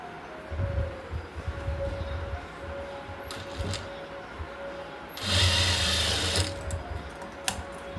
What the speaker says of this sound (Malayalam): ഇതാ ഇവിടെ വെച്ചിട്ട് ഇങ്ങനെ നീളത്തിൽ സ്റ്റിച്ച് ചെയ്ത് കൊണ്ടുപോകാം.